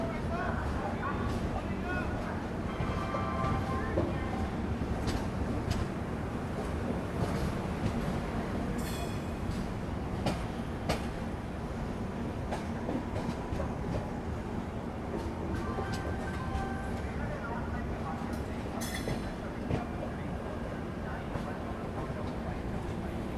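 Magadh Express heard from on board while running, a continuous rumble and rattle of the coaches with faint clanks from the wheels, with people talking over it.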